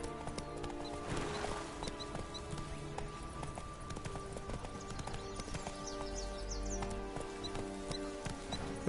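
Horse hooves galloping in The Witcher 3 video game: a steady run of rhythmic hoofbeats under continuous game music and ambience, with no talking.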